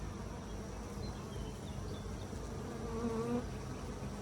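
A steady, dense insect hum of many honeybees buzzing close by at an open hive during an inspection, continuous and even throughout with a slight swell near the end.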